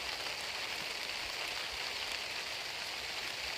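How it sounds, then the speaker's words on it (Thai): Steady rain falling, a dense even hiss of drops on surfaces throughout, with no voices. "ฝนก็ตกลงมาแล้วนะครับ"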